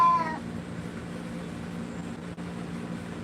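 A short-haired cat meows once at the start during grooming, a brief close wail that fades quickly into a steady low room hum.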